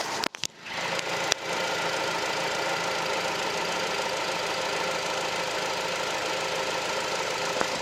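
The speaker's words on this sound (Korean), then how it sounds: "엔진 열어봤고요 엔진 소리 한번 들어볼게요" A Samsung SM5 New Impression LPG sedan idles with its hood open, a steady, even mechanical hum with a light ticking texture, heard close and alone after a brief clunk at the start.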